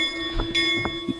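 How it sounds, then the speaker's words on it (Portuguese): An abbey church bell tolls from a small bell tower, its steady metallic hum ringing on through the whole moment, with a few low thuds beneath it and no voices. "O sino que nós estamos ouvindo, agora são 16 horas, é o sino que se toca no campanário da igreja"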